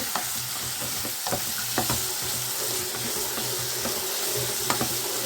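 Chopped medium carrots fry in a pan while a spoon stirs them, a steady sizzle broken by scattered scrapes and clinks of the utensil, close and continuous with no talking.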